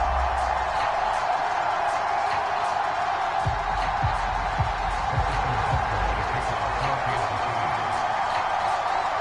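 A stadium crowd in an EA Sports NFL video game roars before a Denver Broncos and Kansas City Chiefs matchup, a steady, dense wash of cheering with a few low thumps in the middle.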